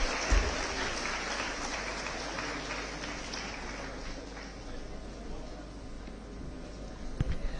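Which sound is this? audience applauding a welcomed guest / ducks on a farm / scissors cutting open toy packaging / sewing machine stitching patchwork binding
audience applauding a welcomed guest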